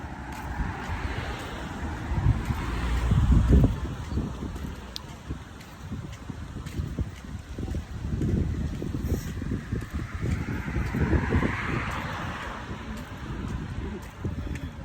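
Gusty wind buffets the microphone, rumbling in uneven waves over an outdoor background with a faint distant engine drone.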